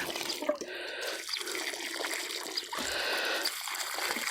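Warm water streams and trickles onto pepper seedlings planted in open ground, a steady close splashing pour with a few drips.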